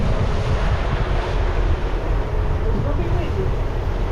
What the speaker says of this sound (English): But we're gonna have another windy ride today